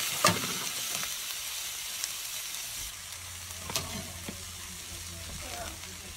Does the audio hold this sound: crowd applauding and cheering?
no